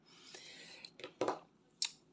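Small embroidery scissors handled quietly near the microphone, giving a few faint metallic clicks and snips spaced irregularly in a calm cross-stitch setting.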